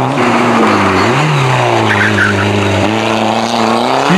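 Rally cars race hard along a special stage, engines roaring loud and close throughout, with pitch shifts as they brake and slide and a steady gritty tyre-scrub texture underneath, no talking.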